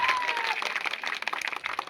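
An audience at a school farewell ceremony claps loudly together, a dense burst of applause that carries steadily for a couple of seconds.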